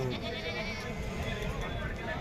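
Goats bleat at a busy goat fair in Maur Mandi, Punjab, with steady crowd chatter and voices of people talking all around them.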